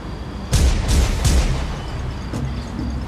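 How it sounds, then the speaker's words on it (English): Gunshot sound effects in a Batman audio drama, three sharp loud bangs in quick succession followed by a fainter fourth shot, with a rumbling reverberant tail. "Then Batman heard the sound of gunshots"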